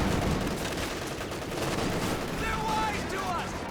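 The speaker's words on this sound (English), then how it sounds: "that's a 50 cal at the back, getting some light suppression in there" Heavy .50 cal machine gun fire in the WWII strategy game Company of Heroes 2, sounding as a dense, continuous rattle of gunfire in a busy battle mix, with a faint whistling effect near the end.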